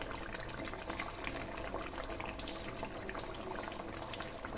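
Rohu fish kalia curry bubbling in a pan on a gas stove, a steady, dense simmer that holds at an even level throughout with no talking.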